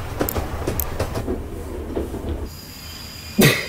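A train rolls in within the Henry Stickmin video game, rhythmic clattering and rumble followed by a sharp metallic clank near the end.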